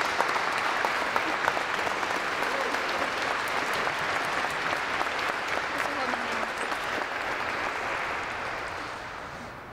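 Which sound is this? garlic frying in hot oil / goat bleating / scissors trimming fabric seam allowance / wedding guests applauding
wedding guests applauding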